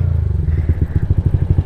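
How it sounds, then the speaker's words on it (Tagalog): A Yamaha NMAX scooter engine fitted with an RS8 block idles and revs up close and loud, with a rapid pulsing, throbbing rumble. "Grabe, lakas ni Jolo Trucks. NMAX 200."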